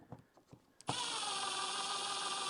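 A power drill drives M4 bolts, about 20 mm long, into the parts of a 3D printed marble machine. A few faint clicks and handling taps come first, then a loud, steady motor whir runs without a break to the end.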